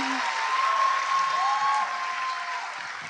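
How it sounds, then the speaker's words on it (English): At a live recording of the My Favorite Murder podcast, the audience claps in a sustained, even burst that carries through the whole moment, with a faint tone and murmur beneath. "There's too much clapping."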